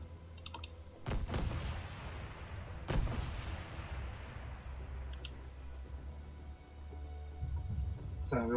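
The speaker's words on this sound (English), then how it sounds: "So we'll keep up this bombardment" Heavy fleet bombardment of a planet in a space strategy game: two booming blasts with long rumbling decays, each spreading into a broad wash, over a steady low drone with light clicking throughout.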